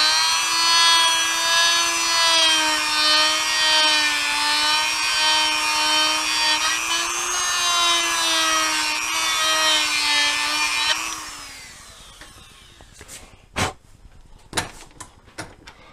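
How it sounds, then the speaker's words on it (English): Dremel with an 80–100 grit sanding drum grinding a threaded ring, a high wavering whine with rasping friction that runs about eleven seconds, then spins down, followed by a few sharp clicks and taps. "it's probably an 80 grit, an 80 or 100 grit drum wheel on a Dremel"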